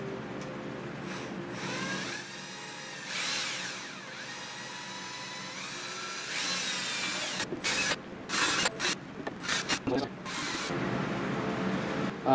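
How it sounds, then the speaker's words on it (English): A power drill bores mounting holes straight through a board held over a trash can during a boat's fresh water plumbing refit, giving a steady whirring grind with bursts and pauses in the final seconds. "I'm going to go ahead and drill all the way through and then countersink them in a few minutes"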